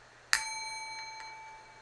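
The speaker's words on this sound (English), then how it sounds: "Just get any bell, like the Tibetan bells, that go." A small Tibetan-style bell gives one clear strike that rings on with a long, bright, slowly fading tone, close and alone in a quiet room.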